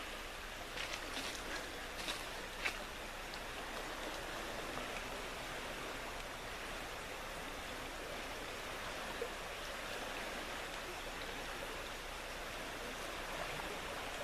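A flooded, rising creek rushes past in a steady, dense roar of churning water that never lets up, with only faint splashy ticks on top.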